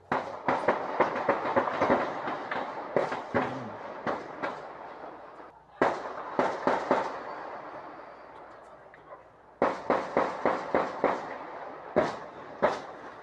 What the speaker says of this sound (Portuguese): É noite e é possível ouvir vários tiros.